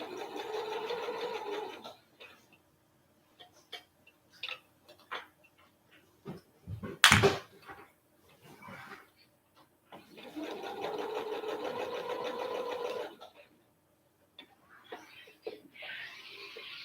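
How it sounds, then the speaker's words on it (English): A domestic sewing machine stitching a seam on a raglan garment runs in two sustained rattling bursts separated by quiet handling noises and a sharp thump, with a short third run at the end, close and alone. "my sewing machine is going to be able to go that way"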